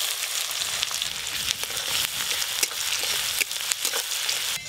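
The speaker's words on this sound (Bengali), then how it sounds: "এই পেঁয়াজ কুচিগুলো একদম লাল লাল করে ভাজা করব।" Chopped onions fry in a pan with a steady, loud sizzle and crackle that runs unbroken throughout, with faint stirring scrapes and no voices.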